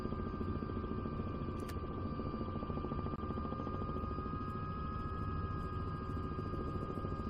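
A simulated helicopter flies in Microsoft Flight Simulator 2024, a steady dense rotor and turbine drone with a constant high whine, unbroken and even in loudness throughout.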